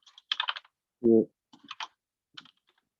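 Quick bursts of computer keyboard typing as a command is entered, close and crisp, in three short clusters, with a brief low thump between the first two.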